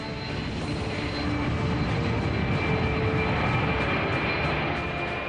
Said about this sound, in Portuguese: Com o rugir dos motores e apenas 15 minutos de atraso, o Beluga desliga-se do asfalto